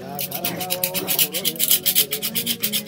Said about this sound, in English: We're gonna use some sandpaper.